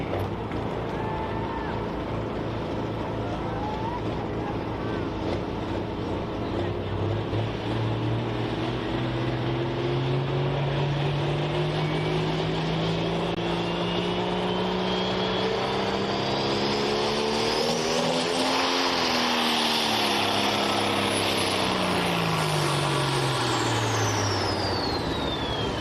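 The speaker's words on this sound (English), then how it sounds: "Having a little bit of issues getting that tractor coming off the line." Pulling tractor at the Mt. Hope Power Pull in Ohio, its engine roaring loudly and continuously, pitch climbing and falling as it labors down the track with crowd and announcer noise mixed in.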